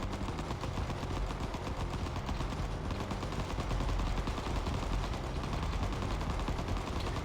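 Continuous rapid gunfire in Vital Shell, a dense, unbroken rattle of shots at steady volume that fills the whole stretch with no pauses.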